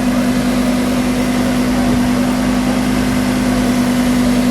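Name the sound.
Lamborghini Huracan V10 engine running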